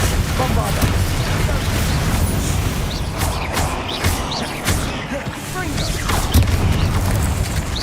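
Booming blasts and bursts from a Bombarda spell in Hogwarts Legacy ring out amid busy game effects, with a few sharp hits and loud rumbling heard under talking voices.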